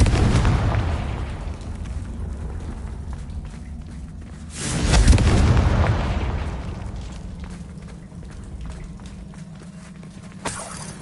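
Bombarda and Confringo spell explosions in the Hogwarts Legacy video game: a deep booming blast around the middle swells and fades over a rumbling game soundscape, with a sharp crack near the end.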